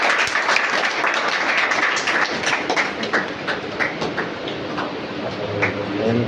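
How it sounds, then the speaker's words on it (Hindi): Dense applause fills a hall at a women's college welcome and felicitation ceremony, many hands clapping steadily and close for several seconds before easing slightly toward the end. "तालियां बजती रहनी चाहिए।"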